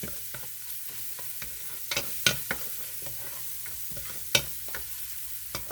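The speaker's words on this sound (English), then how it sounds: "the pan is hot and the garlic now it's sizzling." Soft sizzling of garlic in a hot pan with occasional scraping stir clicks, fairly quiet and close, no voices.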